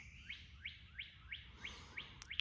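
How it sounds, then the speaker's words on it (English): A bird repeats a short, rising chirp about seven times in a steady rhythm, faint and distant, at a campsite on Michigan's Potawatomi Trail in the early morning. "The birds are singing."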